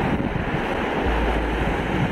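Steady wash of sea waves rolling onto a beach as the tide comes in, with a continuous broadband roar and some wind buffeting the microphone.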